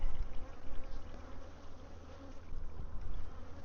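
Honeybees buzz around a hive as a dense, steady drone of many insects that rises and falls slightly in loudness, with no voices.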